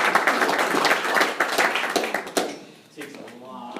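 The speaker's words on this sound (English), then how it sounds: "All right, give them a round of applause." Audience clapping after a training presentation at an insurance training session, dense applause for about two and a half seconds that thins out, with talk emerging underneath as it fades.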